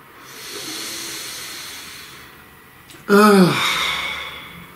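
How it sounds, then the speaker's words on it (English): A person takes a slow deep breath close to the microphone: a soft, drawn-out inhale followed after a short pause by a louder, breathy exhale that fades away. "Please take a nice deep breath."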